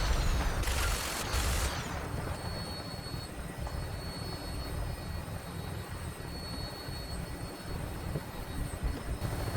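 In Fallout 4, an aircraft lifts off in a steady, roaring jet-like engine drone, with a brief louder burst near the start before settling into a constant hum.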